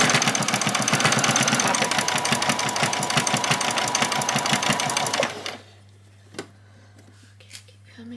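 Sewing machine back-stitching fabric for a doll's dress, a steady rapid needle chatter running loud and close for about five seconds before stopping, followed by quiet handling sounds and a brief spoken word.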